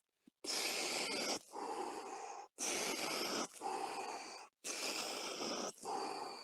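Three slow cycles of deep breathing, each a loud airy inhale followed by a softer, longer exhale, with short silent pauses between them.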